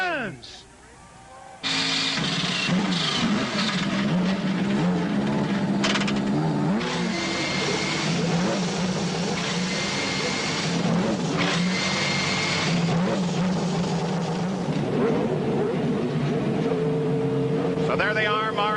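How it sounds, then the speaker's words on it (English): Many Indy race car engines start up and roar together at once at the 1994 CART Belle Isle Grand Prix in Detroit after a short quieter moment, a dense loud wall of revving motors. "Drivers, start your engines!"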